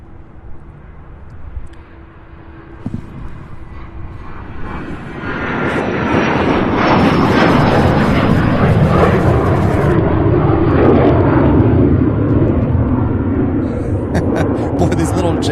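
A jet airliner taxiing at Louisville International Airport and UPS Worldport, its engine roar building from a quieter start into a loud, sustained whine and rumble that holds steady for the rest of the clip.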